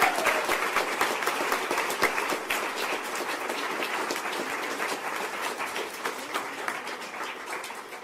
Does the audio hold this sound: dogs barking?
no